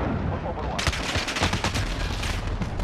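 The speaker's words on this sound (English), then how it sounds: "Where the heck was I getting shot from?" Rapid gunfire crackles in Modern Warfare during an online match. Dense overlapping shots and bursts sound close and loud, with scattered impacts and a voice faintly under the shooting.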